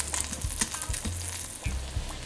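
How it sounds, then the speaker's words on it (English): A patty melt sandwich fries in a pan with steady crackling sizzle, joined by a few low bumps and scrapes, close and fairly quiet. "now all we need to do is fry that until it's nice and crispy and brown on both sides of that bread"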